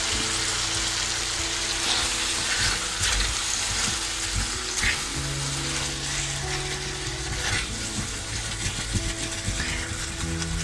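Curry chicken strips fry in a frying pan while being stirred, making a dense, continuous sizzle up close with soft scraping movements throughout and no talk.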